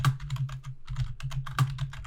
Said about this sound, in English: Type away on that loud ass keyboard.